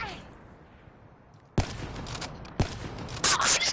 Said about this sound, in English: Oh, I just got a bullet go past me.